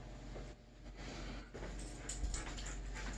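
A dog pants close by in quick, soft breaths and lets out faint whimpers, fairly quiet in an indoor room with no one speaking over it.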